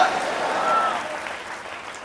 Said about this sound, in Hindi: ताली बजाकर प्रभु के नाम का महिमा करें।